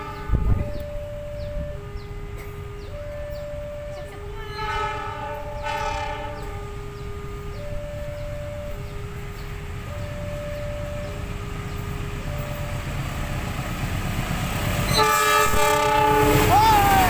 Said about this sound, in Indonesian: Guys, kereta api batu bara sudah muncul.